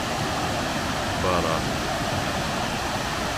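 Mill Shoals Falls, a waterfall on a wet, mossy creek in Rabun County, Georgia, gives a steady broadband rush of falling water from nearby, with a person briefly speaking over it.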